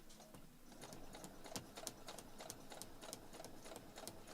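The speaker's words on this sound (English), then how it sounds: "And all I'm doing is sewing directly on this line." A sewing machine stitches straight along a printed line on paper-backed fabric in foundation paper piecing, its fast needle ticking steadily and fairly quietly with a faint rhythmic clatter throughout.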